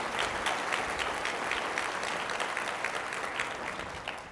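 A conference crowd at a small business finance forum gives a steady round of applause, dense even clapping from a large room that carries through and tapers slightly at the end, with no voices.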